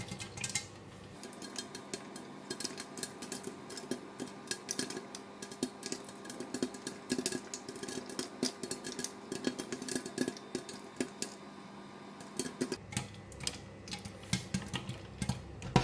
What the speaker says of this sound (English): Just let the corn to pop until it's quiet down